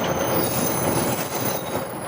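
Virginia & Truckee Railroad train rolling past three green coach cars, a steady loud rumble with wheel squeal and metallic rail noise, close and continuous without any voices.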